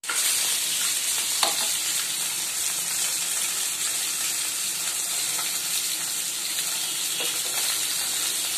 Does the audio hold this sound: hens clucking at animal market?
no